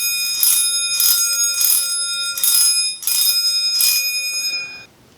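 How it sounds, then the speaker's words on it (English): An old, roughly 100-year-old brass doorbell rings in loud metallic bursts, five rapid jangling rings in close succession with bright sustained overtones, then cuts off near the end; no voices. "It's a doorbell, and some of you might recognize these."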